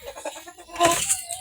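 A backyard chicken gives a few short clucks and flaps amid rustling noise, close by and fairly loud, with no speech over it.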